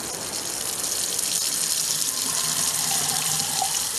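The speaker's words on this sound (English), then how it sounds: "It's water." Water runs from a tap in a steady, continuous gush, loud and close, with no voices.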